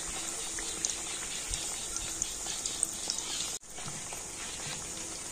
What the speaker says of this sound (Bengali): এই নিমকিগুলোকে কিন্তু উল্টে পাল্টে খুব সুন্দর করে ভেজে নিতে হবে